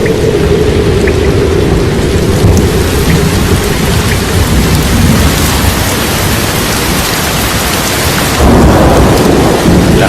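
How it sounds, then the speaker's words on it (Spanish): A heavy thunderstorm with torrential rain in Kenya, with dense loud rainfall hissing and pattering throughout, deep thunder rumbling beneath it, and a stronger surge of downpour near the end. "las lluvias vienen con el doble de fuerza de lo habitual en la estación húmeda y junto a El Niño, la tormenta del siglo en Kenia"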